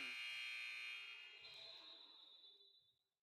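An end-of-quarter buzzer in a women's college basketball arena, as Cape Fear plays Richard Bland, sounds as a loud, steady electronic blare lasting about three seconds and then cutting off, with crowd noise underneath.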